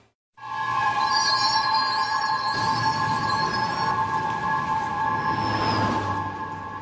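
New York City subway train on the Broadway line, a loud, steady rumble of rolling cars with sustained squealing wheel tones and high metallic screeches, running continuously throughout.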